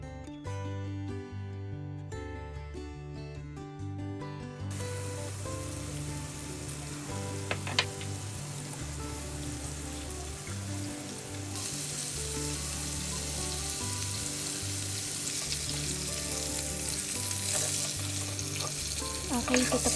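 Chicken coated in corn flour frying in hot oil, a continuous crackling sizzle that grows brighter and denser partway through, under a steady music bed.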